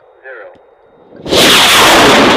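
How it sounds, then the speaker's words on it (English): A model rocket motor ignites on the launch pad and roars steadily from close range, a loud, broad hissing blast after a faint moment of near silence. "I glued 2 run cams looking up to watch the rocket as it lifts off"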